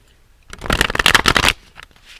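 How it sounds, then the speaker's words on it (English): A burst of riffle-shuffling tarot cards, a quick rapid flutter of snapping card edges lasting about a second, close and crisp, with a soft shuffle after. "And I'm shuffling just because it's nice."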